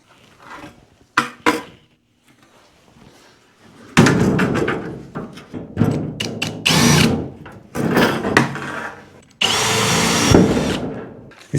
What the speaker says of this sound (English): Even picked up myself a fresh 1/8 inch drill bit, so we get them fast drilling holes.